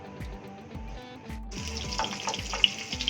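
Chopped onions hit 2 to 3 tablespoons of hot oil for a mash dal tempering; after a quiet stretch of low knocks, a sudden loud sizzle bursts up and keeps crackling close by with small pops.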